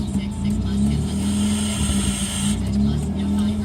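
A car engine idles roughly while stopped at a stoplight, its uneven hum steady and close with a persistent low drone and faint wavering, a fault in the idle air control valve behind the unsettled idle.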